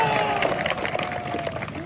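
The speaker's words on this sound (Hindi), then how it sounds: "जोरदार तालियां बजा दीजिए भाई" Steady applause from a crowd with some cheering at a kabaddi match, continuous and fairly loud throughout, a few voices mixed into the clapping.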